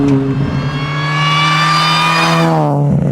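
A supercharged Mini Cooper S R53 engine pulls hard uphill, its loud rising whine and harmonics climbing steadily through the revs before easing off near the end, close and unbroken with no talk.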